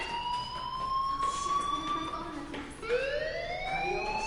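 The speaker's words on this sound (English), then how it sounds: "do you hear that fire alarm?" A fire alarm in the video game Life is Strange wails in long rising and falling electronic tones that restart partway through, loud and steady over a low background.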